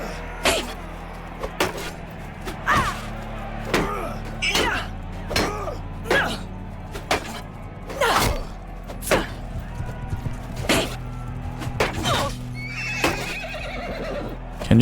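Horses whinny repeatedly in Bannerlord, a medieval combat video game, during a tournament fight. The neighs come in a steady run over the whole stretch, mixed with hoof clatter, thuds and faint background voices.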